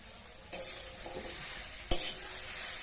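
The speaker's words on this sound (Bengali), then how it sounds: "এবার একটু এতে কড়াই নেড়ে ছেড়ে নেব" Two sharp scrapes of a utensil in a wok of snake gourd, potato and fish roe over a soft frying sizzle, quiet and close, with no voices.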